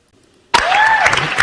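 A talent-show audience bursts into sudden loud applause and cheering for a speed painter after near silence, and the clapping stays dense to the end.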